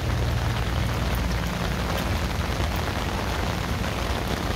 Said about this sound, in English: The rain is getting pretty ridiculous now